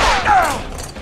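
A single gunshot fired in the Tales From the Borderlands video game, a sharp loud crack at the start followed by a short ringing decay with a faint voice.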